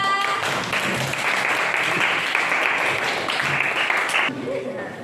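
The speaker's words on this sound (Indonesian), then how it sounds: "tepuk tangan untuk kelompok 2" A classroom full of people applauds a student group steadily for several seconds, a dense wash of clapping that fades slightly toward the end, with voices mixed in.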